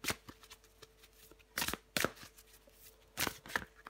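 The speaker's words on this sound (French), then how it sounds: "Je vais prendre encore une carte pour vous." Tarot cards being shuffled by hand, heard as soft papery riffles and taps in a few quick bursts with quiet pauses between them, close and faint, with no talking.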